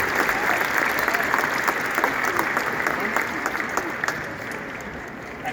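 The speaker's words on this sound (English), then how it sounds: "Let's give our sponsors a round of applause." A graduation ceremony audience applauds its sponsors with sustained, dense clapping that stays steady and fairly loud, then fades slightly toward the end.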